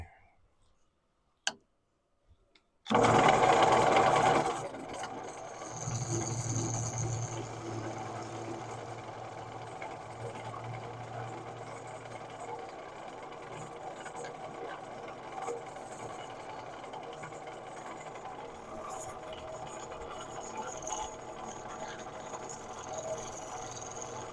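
A wood lathe spins a bowl blank while a bowl gouge cuts, a steady whirring hum with a rough scraping texture that starts abruptly after a couple of clicks and runs continuously, close up.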